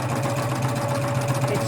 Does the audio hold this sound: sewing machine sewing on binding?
yes